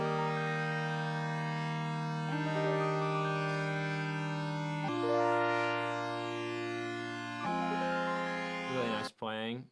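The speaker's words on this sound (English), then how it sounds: "Omnichords played by Emily, doubled." Doubled omnichord parts play sustained, shimmering chords that change every few seconds, thick and steady throughout, ending in a brief burst of different sound at the close.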